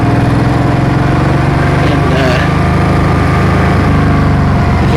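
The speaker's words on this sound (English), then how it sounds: "You can hear the fan of this motorcycle." Small radiator fan whirring on a liquid-cooled Suzuki M50 motorcycle, a loud, steady drone mixed with the idling engine, continuous for the whole stretch.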